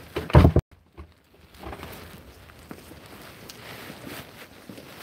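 A car door shuts with a single loud thunk near the start, followed by quiet muffled cabin ambience with faint rustling.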